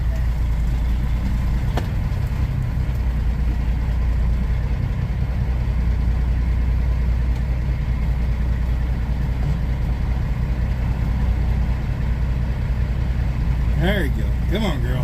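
A big truck's diesel engine idles steadily through a tight turnaround, a constant low rumble throughout with a short squeal of brakes or air near the end.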